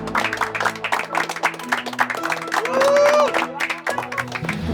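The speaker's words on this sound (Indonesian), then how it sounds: "Tepuk tangan, buruan, jangan berhenti." Applause marks the inauguration of a hygienic village toilet in a drama scene: dense, continuous clapping mixed with music and lively crowd voices, fairly loud throughout.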